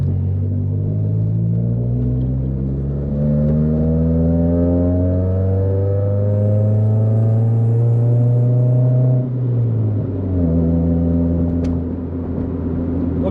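A Honda Civic EK driving on the road, heard from inside the cabin: a steady low engine drone rises through the gears, dips as the driver shifts and then climbs again, loud and continuous with no talking.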